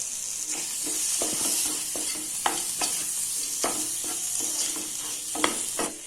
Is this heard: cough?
no